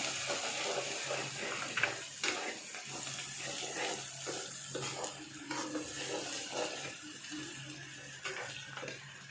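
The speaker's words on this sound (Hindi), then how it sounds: "अब इनको हम अच्छे तरीके से भूनेंगे।" Dry ground spices, red chilli powder and salt frying and being stirred in a pot for street-food-style maash daal, giving a steady close sizzle with scattered spoon scrapes and clicks throughout, no talking.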